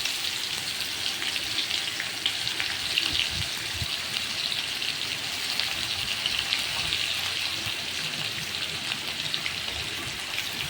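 Chopped onion with whole cumin seeds sizzles steadily in a pan: a constant, fairly quiet crackling hiss with no talk.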